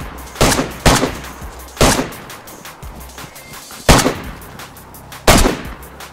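Gunfire in the video game DayZ, a handful of sharp, loud shots spaced irregularly over several seconds, some in quick pairs, over a low background hum.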